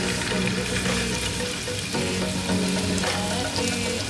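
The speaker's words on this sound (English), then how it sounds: "You're ready to add the burger patties in a pan with hot" Burger patties fry in a pan of hot oil, giving a steady, loud, close sizzle with crackling that carries on without a break and no talking over it.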